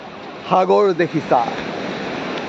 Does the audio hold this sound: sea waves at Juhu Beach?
yes